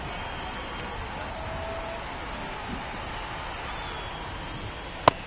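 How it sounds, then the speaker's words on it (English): Steady rain falls on a baseball game in progress, a continuous even hiss of drops across the whole stretch with one sharp brief crack near the end. "This rain is not letting up."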